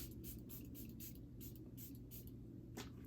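Several quick, faint spritzes of Charlotte Tilbury Airbrush Flawless setting spray mist onto a face in rapid succession, close and soft over a low room hum.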